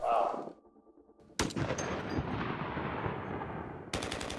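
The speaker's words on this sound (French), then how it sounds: "écoutez le sniper" Heavy sniper rifle shot from the Overwatch video game, one booming report with a long rolling echo, then a second sharp blast at the end, played over faint background game sound.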